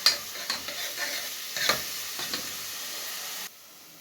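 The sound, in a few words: onion sautéing in hot ghee in a pot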